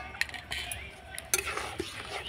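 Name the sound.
stirring pitha dough in a pan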